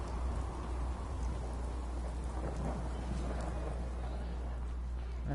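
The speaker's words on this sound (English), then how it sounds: "It's pouring rain." Heavy rain pours steadily in the Fallout 4 video game, a dense continuous roar with low rumbling thunder underneath and a constant low hum throughout.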